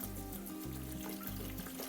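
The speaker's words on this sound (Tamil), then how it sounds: "2 லிட்டர் தண்ணி ஊற்றணும்." Water is poured into a cooking pot with frying fish for Arabian fish mandi biryani, giving a steady liquid rush over a low hum that continues without pause.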